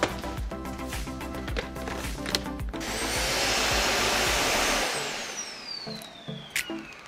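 A Samsung Bespoke Jet cordless stick vacuum cleaner with a slim action brush whirs up to a steady, fairly loud motor hum, then winds down with a falling whine after some clattering.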